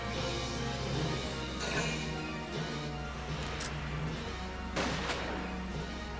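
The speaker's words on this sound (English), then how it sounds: "They're all just shooting that little sand dune in front of them." Sniper shots from the Valkyria Chronicles game slap into a sand dune in a desert battle, several sharp cracks and impacts spaced a second or so apart over a steady droning music-and-ambience bed.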